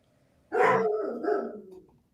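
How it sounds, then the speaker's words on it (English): A dog lets out two loud, close, gruff barks back to back, rough and growly, after a moment of quiet. "Oh, dogs."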